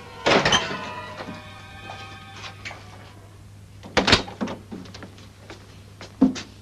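A door in an old television drama opens as a visitor enters, with a loud latch clunk and creak at the start, softer knocks and footsteps, then more bumps and a final thud under a steady low hum.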